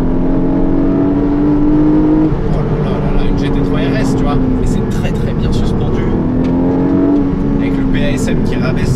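A Porsche 718 Boxster GTS with a 4.0-litre naturally aspirated flat-six revs and pulls under load, its engine note rising and falling in smooth sweeps, loud and close from the cabin, with talking over it.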